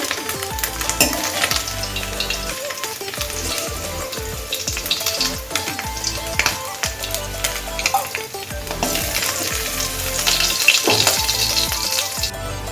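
Small mourola fish fry in hot mustard oil and are lifted out of the pan. A close, steady sizzle runs throughout, broken by the clink of a metal utensil against the pan.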